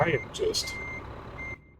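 A truck's reversing beeper in a trucking video game, giving a couple of short electronic beeps over the low engine rumble during a parking manoeuvre.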